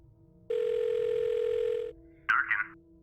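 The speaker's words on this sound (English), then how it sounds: "I'm going to call Sam Durkin" A telephone in the video game The Blackwell Deception sounds a steady dial tone for about a second and a half, then a short pause and a quick burst of warbling dialing tones.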